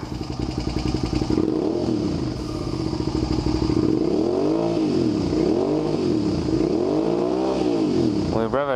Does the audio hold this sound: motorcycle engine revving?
yes